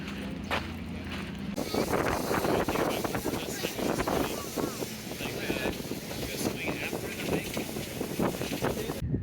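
Steady engine drone and rushing wind on Crater Lake, a boat moving along with constant noise and some muffled voices underneath.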